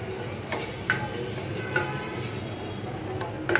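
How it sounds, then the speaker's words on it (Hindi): Latti (khinda) batter, a Himachali dish, stirred in a pan with a steady scraping swirl, a faint sizzle underneath and a few sharp clinks of the spoon against the metal rim. "इसको हिलाते रहना पड़ता है, जब तक पका नहीं तब तक हिलाते रहना पड़ेगा"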